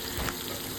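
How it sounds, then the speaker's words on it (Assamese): A vegetable fry sizzling loudly in a hot pan just after water is sprinkled over it, a steady dense hiss close up with no voices. "আৰু অকণমান পানী ছটিয়াই দিলোঁ আৰু ভাজিখিনিত"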